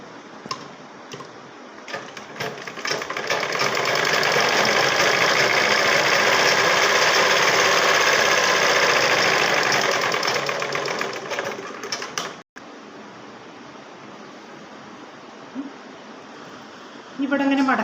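A sewing machine stitches a saree blouse, starting with brief bursts, then running in a long continuous whirring, rattling stretch before stopping, close and fairly loud, followed by a quieter pause with faint handling sounds.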